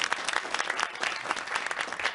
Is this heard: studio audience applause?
yes